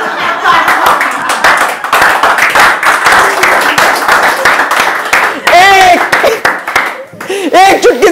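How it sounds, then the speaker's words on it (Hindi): An audience claps at a talk show taping, steady dense clapping for several seconds, with voices and laughter joining near the end. "Please clap for a big round of applause for it."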